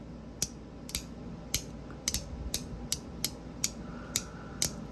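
A donut fidget toy clicks in sharp, snappy bursts, about a dozen irregularly spaced clicks over a few seconds, close up against a quiet background hiss.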